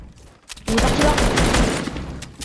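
Fortnite gunfire cracks out as a loud, close burst of rapid shots blending into a sustained roar for about two seconds, without talk over it.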